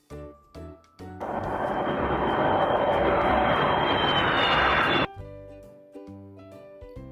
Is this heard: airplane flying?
yes